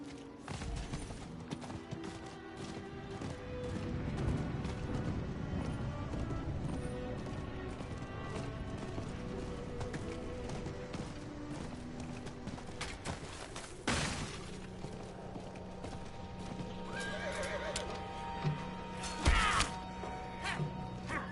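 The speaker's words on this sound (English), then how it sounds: "I wanted to see if that random NPC actually made it through there on his horse" Galloping hooves and clattering impacts in the Diablo 4 game as a non-player character rides his horse, a steady busy clip-clop beneath dense game effects and music, with a sharp crash near the middle; no clear neigh stands out.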